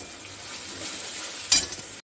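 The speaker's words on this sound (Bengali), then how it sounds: "এখন এই মশলাটাকে আমি একটু কষিয়ে নেব।" Spice paste with cumin powder being sautéed in a little oil in a pan, a steady close sizzle with stirring scrapes and one louder stir burst near the end before the sound cuts off.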